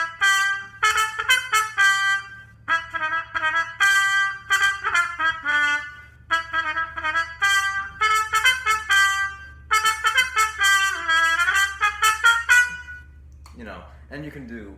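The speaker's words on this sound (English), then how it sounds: "when the stem is fully in, it produces sort of a comical sound almost" Trumpet fitted with a Jo Ral Bubble Mute, stem pushed fully in, playing short bright, nasal, slightly comical phrases in quick bursts with brief pauses between them, close and fairly loud, followed by a short stretch of other sound at the end.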